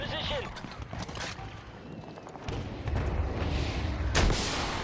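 Gunfire and booming blasts from the Battlefield video game, continuous and fairly loud, with heavier bursts toward the end, while someone talks over the action.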